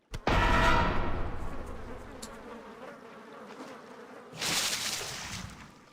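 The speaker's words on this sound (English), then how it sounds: "Oh, those bees were really angry." A loud swarm of angry bees in World of Warcraft hums close by. The buzzing starts abruptly, wavers for several seconds and swells again near the end, with no talk over it.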